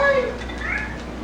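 A house cat meows while playing with a toy mouse, a short clear meow near the start and a fainter rising one later, over steady low background noise.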